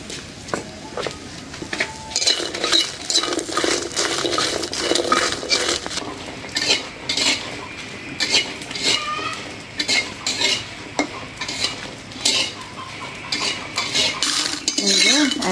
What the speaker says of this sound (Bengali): শুকনা কড়াইতে ভাজা নেই।